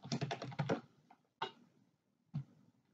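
Quick taps on a computer keyboard: a fast cluster of keystrokes, then a few isolated clicks after short pauses, close and fairly quiet.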